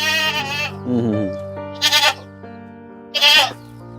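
Several loud, wavering goat bleats close by in a forest setting, a drawn-out cry followed by two shorter calls, with a steady low hum underneath.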